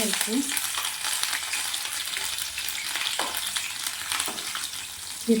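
Cumin and green chillies frying in hot oil, a continuous close sizzle broken by a few stirring scrapes, with no voices.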